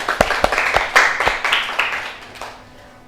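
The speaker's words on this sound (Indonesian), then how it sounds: "Tepuk tangan buat Mbak Isma" Classroom applause for a student, a short burst of scattered hand claps from a small group that quickly thins out and fades.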